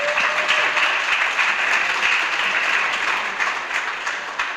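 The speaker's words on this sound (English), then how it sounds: "Let's give Dr. Wolf a round of applause." An audience at a community meeting applauds a speaker, a loud dense wash of clapping that holds steady and then eases slightly toward the end, with no voices over it.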